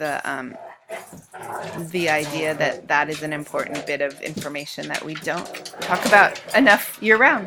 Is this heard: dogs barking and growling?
yes